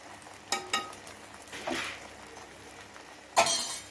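An egg omelette frying for a chicken roll as oil is poured around its edge: a soft sizzle with a few sharp clinks of a utensil against the pan, and one louder scrape near the end, no voices.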